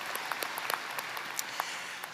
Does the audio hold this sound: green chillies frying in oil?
no